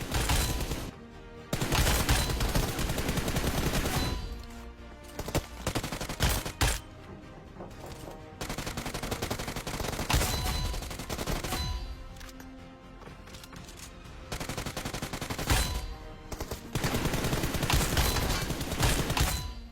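Bursts of rapid gunfire in a PUBG Mobile training ground while targets are shot, several long fusillades separated by short pauses, loud and continuous with no voices.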